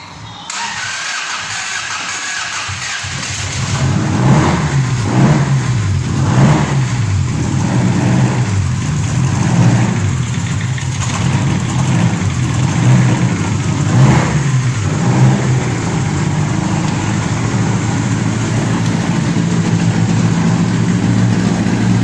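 A Mazda F1300 bakkie fitted with a 3SGE Beams engine cranks and fires for its first startup, then runs loud and close with rough, pulsing revs settling toward an uneven idle.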